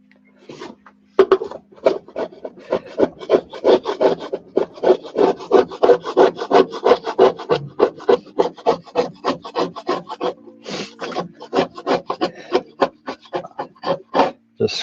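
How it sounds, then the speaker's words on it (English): Rough, rhythmic scraping strokes strip old cork off model railway roadbed, a steady run of close, loud, dry rasps that keeps going for nearly the whole stretch with brief pauses. "just scrape the worst of it off"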